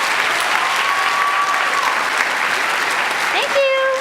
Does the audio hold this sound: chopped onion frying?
no